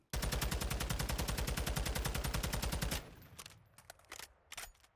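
A TAQ 56 rifle with a barrel attachment fires a rapid, loud, unbroken burst of automatic shots for about three seconds in a video game, followed by scattered softer clicks and clatter.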